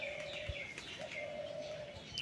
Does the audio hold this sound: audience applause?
no